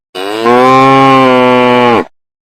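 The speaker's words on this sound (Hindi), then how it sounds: "गौमाता जोर से एक आवाज निकालती है" A cow that has just eaten green peas lets out a single loud, drawn-out moo lasting nearly two seconds, close and clear against a quiet background.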